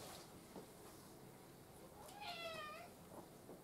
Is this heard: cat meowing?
yes